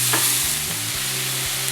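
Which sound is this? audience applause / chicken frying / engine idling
chicken frying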